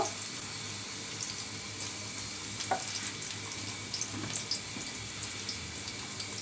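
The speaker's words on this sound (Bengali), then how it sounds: "পেঁয়াজটাকে আমি একটু লালচে ভাজা করে নিব" Chopped onion frying in oil in a cooking pot, a steady soft sizzle with faint crackles and a few light clinks, fairly quiet and without speech.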